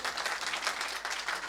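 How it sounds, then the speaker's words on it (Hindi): Steady, loud applause from an audience at a Sanskrit quiz event during the Mahakavi Magh festival stage ceremony, dense clapping filling the whole moment with no break. "जोरदार तालियां आपके लिए भी"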